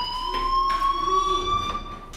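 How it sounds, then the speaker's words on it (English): A fire alarm in the Life is Strange video game rings as a steady, piercing electronic tone, loud and continuous, with faint pulsing bursts behind it. "do you hear that fire alarm? That means you should be outside."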